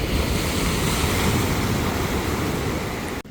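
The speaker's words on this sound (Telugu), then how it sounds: "ఇక్కడ సముద్రం ఒడ్డుకు" Ocean waves roll in at the seashore in Kanyakumari, a loud, continuous roar of surf mixed with wind buffeting the microphone, with no talking.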